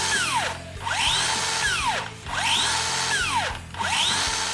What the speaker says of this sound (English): let's check out the soft start and the electric brake on both of these here